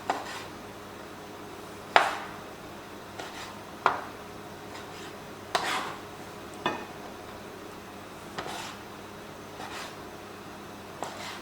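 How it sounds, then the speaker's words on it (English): A knife cuts soft polytunnel-grown tomatoes into quarters on a board, giving about eight separate sharp chopping knocks at irregular intervals, close and clear, with quiet handling sounds between them and no voices. "our tomatoes, these are quite soft because they're out of the polytunnel, so I'm just going to quarter these"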